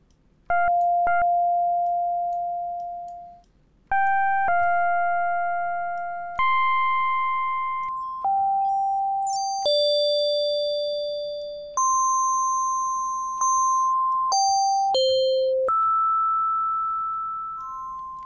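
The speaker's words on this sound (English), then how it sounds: "Now we set up a bell-like envelope." Modular synthesizer bell-like tones, a sequence of pure ringing notes at shifting pitches, each struck and slowly decaying, loud and alone.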